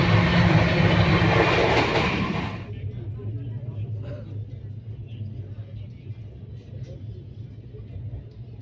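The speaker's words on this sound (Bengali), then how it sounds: "আমাদের ট্রেন বারাণসী থেকে ছেড়ে এসে কাশিতে প্রবেশ করেছে" The Howrah weekly SF Express runs from Varanasi with a loud rushing roar that drops after a few seconds to a steady low rumble of wheels and carriage noise, close and continuous.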